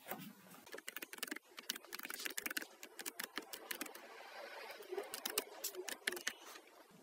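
An email address typed on a computer keyboard: quiet, rapid key clicks in uneven bursts, steady for several seconds with no talk.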